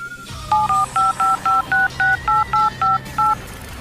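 Someone dials a phone number on a telephone keypad, a quick series of about eleven evenly spaced, loud, clear touch-tone beeps over a low background hum.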